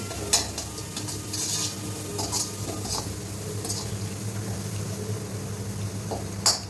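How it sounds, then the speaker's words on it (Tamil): Green chilli, ginger and coriander frying in oil in a pan, a steady low sizzle with occasional scraping stirs and light metal clinks, fairly quiet and continuous. "எண்ணெயில் கொஞ்சம் ஃப்ரை பண்ணிவிட்டு"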